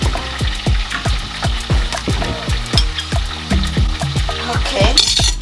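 Onion fries and sizzles in a pan for Liberian chicken gravy, a close, steady sizzle broken by a quick regular rhythm of spoon strokes scraping and stirring the pan.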